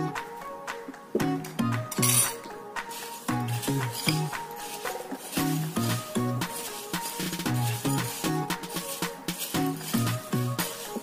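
A spoon repeatedly clinks against a bowl while sabudana chivda with fried peanuts, black pepper and rock salt is stirred, producing quick, bright, rhythmic taps close by with no talking.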